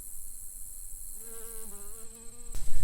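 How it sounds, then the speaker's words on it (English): Honeybees working blooming lespedeza plants outdoors: a steady, droning buzz rises partway through and hovers close, wavering slightly in pitch over faint background noise. "It sounds like a beehive, and if you look really close, almost every other plant has like a honeybee on it"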